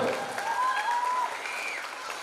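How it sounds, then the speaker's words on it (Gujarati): An audience at a Krishna Janmashtami community celebration claps together in a dense burst of applause that starts loud and gradually thins out, with a voice briefly audible over it. "એકવાર દિલથી જોરદાર તાળીઓથી આ પરિવારને વધાવશો"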